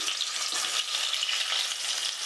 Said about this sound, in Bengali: ওই তেলের মধ্যে আমি দিয়ে দিচ্ছি আলুগুলো